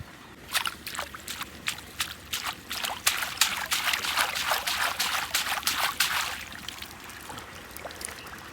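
Radishes being washed by hand in a flowing stream channel outdoors, with repeated splashy sloshes and trickling water in an uneven rhythm, close and moderately loud, no talking.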